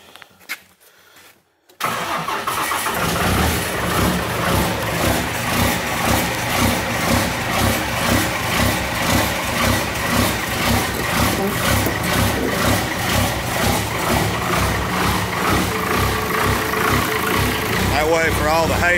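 Diesel truck with a 24-valve engine and P-pump conversion, cranking to start after a short quiet stretch, then settling into a loud, heavy, steadily pulsing idle close by inside a shop for the rest of the clip.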